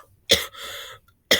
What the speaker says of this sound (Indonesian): maaf, saya batuk karena saya lagi kurang sehat